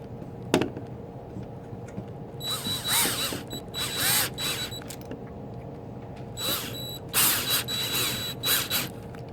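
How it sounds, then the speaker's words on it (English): A screwdriver drives a self-tapping screw into the end plate of a J Tech ACRO laser machine during assembly, heard as several whirring, ratcheting bursts of a few seconds each against a quiet room, with no talk. "Another self-tapping screw, put it in there, and I'm just going to cheat a little bit. I got my screwdriver."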